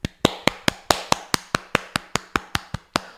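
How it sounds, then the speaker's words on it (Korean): Single hand claps struck close to a microphone, about fifteen sharp evenly spaced claps in a quick steady rhythm, loud and dry with no voices. "이거는 박수 한번 쳐야 돼."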